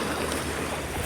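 Sea waves wash onto a beach with a broad, steady roar of surf, mixed with wind buffeting close to the microphone.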